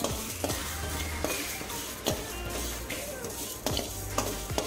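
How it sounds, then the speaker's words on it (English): Mustard and fenugreek seeds dry roast in a pan with no oil for lime pickle, a spatula scraping through them in regular strokes over a light crackling rustle, close and fairly quiet. "Just dry roast it till the mustard seed starts bursting"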